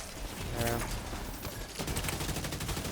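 In The Division 2, gunfire crackles in rapid bursts, with repeated shots and mechanical clatter over the game's background noise, while a voice talks faintly.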